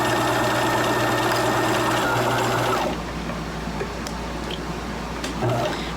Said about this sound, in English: I'm going to stitch at 1/4 inch down the side